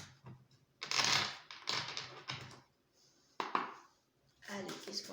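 Fairy tarot cards are shuffled by hand in a few crisp, papery bursts of riffling and slapping, close and fairly quiet, with brief pauses between.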